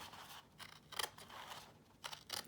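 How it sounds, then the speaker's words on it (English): Scissors snip a thin sliver off the edge of a paper folio in a quiet craft setting, a few short crisp cuts spaced apart, close and fairly soft, with no talking. "where's my scissors? I am going to cut just a little sliver"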